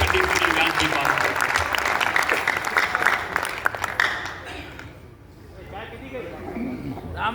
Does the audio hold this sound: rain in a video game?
no